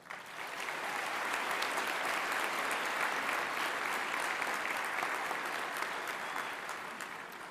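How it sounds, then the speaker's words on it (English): A large crowd at a school of media studies convocation gives sustained applause for faculty and staff, dense, steady clapping that swells in and holds evenly before easing slightly near the end, with no speech. "Let's give them some applause"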